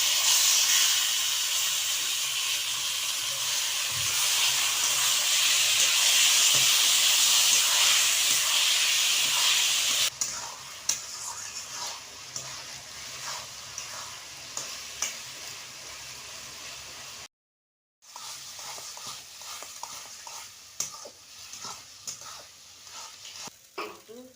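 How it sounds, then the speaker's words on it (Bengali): Taro leaves added to a pan with peanuts and chickpeas for a vegetarian kochu shak: a loud, close hissing sizzle at first, then quieter frying with scraping stir strokes and a brief silent gap. "এবার কচু শাকটা দিয়ে দিলাম।"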